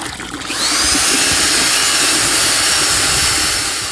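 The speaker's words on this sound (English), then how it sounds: "different drill, electric, more power, more RPMs, here we go." A high-pitched electric drill used to peel potatoes spins up after half a second and keeps whining loudly and steadily, with a rattling, grinding texture underneath.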